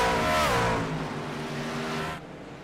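Race trucks of an IRL Platinum Truck Series race roar around Nashville Fairgrounds Speedway, a loud engine drone with a rising whine at the start that fades slightly and holds steady before cutting lower near the end.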